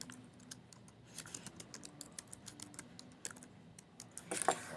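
Typing on a computer keyboard, a rapid irregular run of light clicking keystrokes close by, growing slightly louder toward the end.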